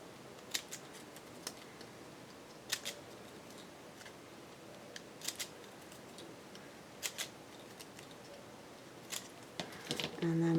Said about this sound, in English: And so this one I'll kind of snip a little bit less.